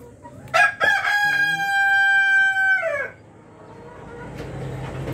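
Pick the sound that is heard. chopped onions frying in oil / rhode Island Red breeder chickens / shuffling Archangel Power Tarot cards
rhode Island Red breeder chickens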